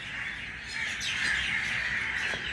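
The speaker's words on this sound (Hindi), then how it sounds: "ये परिंदे जा रहे हैं।" Birds squawk and chirp at dawn near a mango tree, a steady layered chorus of calls with a few louder cries rising above it, heard alone with no talking.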